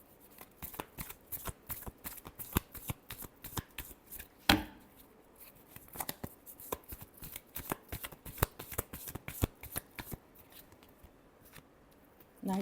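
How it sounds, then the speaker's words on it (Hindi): Tarot cards being shuffled by hand in a run of quick, crisp riffling flicks with brief pauses, close and fairly soft, with no talking. "last shuffle"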